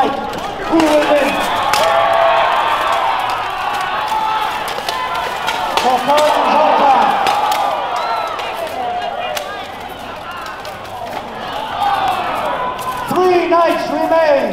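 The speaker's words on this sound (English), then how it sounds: "Cheer for your favorite knight." Crowd cheering and shouting at a full steel knight combat event at Comicpalooza, a steady roar of voices lasting throughout with scattered sharp knocks and clanks and an announcer's voice over it.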